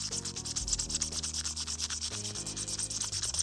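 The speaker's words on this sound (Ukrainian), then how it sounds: "На гладких поверхні залишається велика кількість маленьких пеньочків, які треба старанно зашліфовувати." A 3D-printed photopolymer resin model part is sanded by hand, giving close, rhythmic scratchy rubbing strokes that repeat quickly and evenly over a faint background hum.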